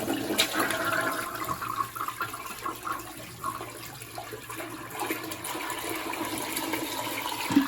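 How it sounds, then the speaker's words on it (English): Toilet flushes with the water supply shut off for a shutoff valve replacement, a steady rushing, gurgling wash of water lasting several seconds, close and continuous with no voices. "so let's go ahead and flush this"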